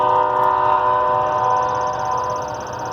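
A train rolls steadily past at close range, sounding a sustained, loud horn chord over the continuous rumble of its cars for about three seconds.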